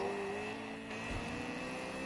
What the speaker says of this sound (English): I can hear a car behind us.